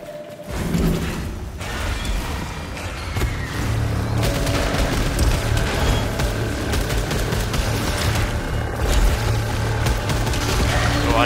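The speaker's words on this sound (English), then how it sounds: "I love how this gun just doesn't run out of ammo." Continuous gunfire from a sci-fi weapon in the PS5 game Returnal, a steady loud stream of shots with booming low impacts and mechanical tones running throughout without pause.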